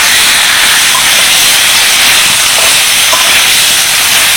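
Water poured into a hot pan of spiced, fried cauliflower sets off a loud, steady sizzling hiss that carries unbroken for the whole stretch, close and bright with no voices.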